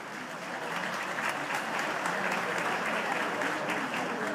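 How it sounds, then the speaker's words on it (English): A steady round of applause from the audience at a high-level UN plenary opening, even and continuous, moderately loud, with no voices on top. "I think we need to practice with our round of applause"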